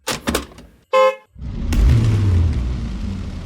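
An AI-generated sports car sound effect: a short honk-like tonal burst after a couple of clicks, then a loud, low engine roar that swells and holds steady to the end, with no talking.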